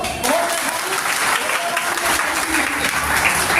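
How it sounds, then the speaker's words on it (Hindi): Loud, sustained applause from an audience at an award ceremony honouring a community figure in Firozabad, dense clapping filling the whole stretch with faint voices mixed in. "भाई जोरदार ताली बजा दो"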